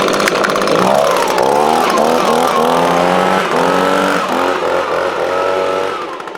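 A Ford Edge Sport EcoBoost V6 fitted with a Magnaflow exhaust revs loudly and close by, with a buzzy, whiny drone rising and falling through several throttle blips before settling to idle.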